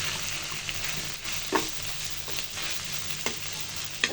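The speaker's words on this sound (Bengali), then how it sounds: "তো নাড়াচাড়া দিয়ে মিশিয়ে নিলে হয়ে যাবে চিকেন চাপ।" Pieces of chicken chaap fry in a pan with a steady close sizzle, while a spatula stirs through them in occasional soft scrapes and clicks, with no one speaking.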